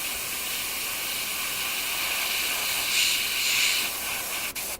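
Steady airbrush hiss of yellow paint spraying in a micro airbrushing job, continuous and close, swelling slightly near the end before a brief cutoff.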